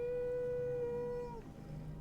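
A ghost wolf in the video game Skyrim gives a single sustained, tonal howl that holds steady, then bends downward and fades after about a second and a half, leaving low game ambience.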